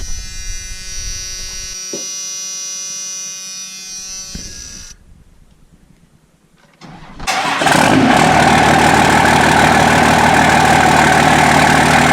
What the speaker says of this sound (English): I'm going to start the truck up and pull it outside a little bit here.